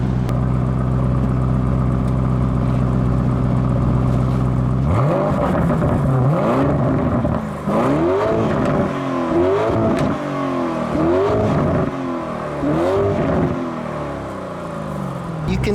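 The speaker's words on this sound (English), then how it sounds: "It's got a great exhaust note, which I will show you guys." A 2019 Lamborghini Urus twin-turbo V8 rumbles at idle, then revs repeatedly in sharp rising blips, loud and close, with a voice talking underneath.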